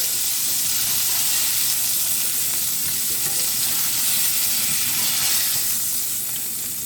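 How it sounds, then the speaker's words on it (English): Fish fries in a pan with a loud, continuous close sizzle and hiss that holds steady throughout, with no talking over it. "So I'm going to let this fry for maybe a minute and a half, just to finish the cooking process."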